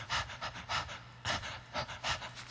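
A person imitates breathing sounds, a K-pop singer producing rhythmic, breathy inhale-exhale gasps in quick succession, close to the microphone with no talking.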